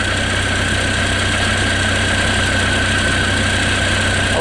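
A Jeep Wrangler TJ's 2.5 engine idles smoothly with a steady, loud, even drone and constant low rumble, running alone throughout with no talking.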